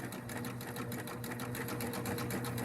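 A sewing machine runs steadily, stitching binding around the edge of a quilt. Its fast, even motor whir and rapid needle patter are close and continuous, with no talk.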